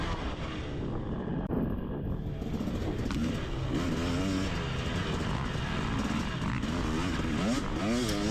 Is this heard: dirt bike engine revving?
yes